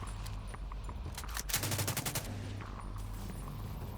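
Gunfire from The Division 2 cracks out as a rapid burst of shots, close and loud, with a few scattered single reports before and after over low game ambience.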